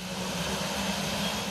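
An airplane used for NASA's Airborne Snow Observatory drones steadily with an even engine hum and a low, constant tone, heard alone without voices.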